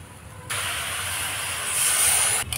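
A little water hits a hot pan of jackfruit cutlet mixture with a sudden loud hiss. It steams steadily close up, swells near the end, then cuts off abruptly.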